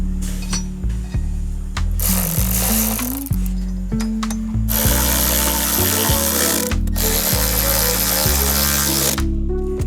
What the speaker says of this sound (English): I'm gonna use this little electric ratchet. So we got a T30 bit.